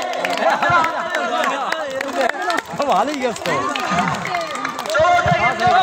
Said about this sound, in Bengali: হাততালি দাও, সাকিবের জন্য হাততালি দাও।